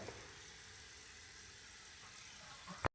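Carrot frying in a pan with pepper powder, coriander powder and garam masala gives a steady, soft sizzle and hiss throughout, ending with a faint clink.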